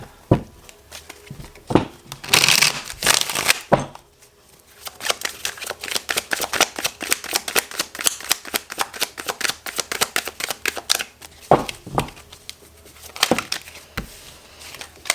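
A deck of tarot cards being shuffled by hand, bursts of riffling followed by a long run of quick, crisp card snaps and flicks, close and fairly loud, no talking.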